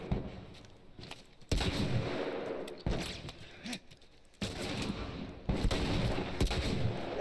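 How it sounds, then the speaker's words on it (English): Gunfire in The Last of Us, repeated loud shots in uneven bursts with heavy booming reports, close and intense, with little talk. "I should not shoot at Tommy."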